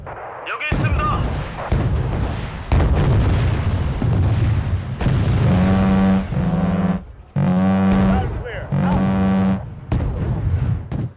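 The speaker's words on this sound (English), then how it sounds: "Congo can fire 4 missiles" Missile launches and explosions from the video game Wargame: Red Dragon come as repeated heavy booms and blasts in bursts, close and loud, with someone talking between and over them.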